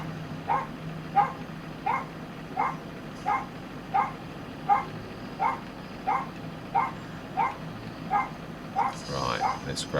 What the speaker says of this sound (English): It's unlike her actually, she doesn't normally bark like that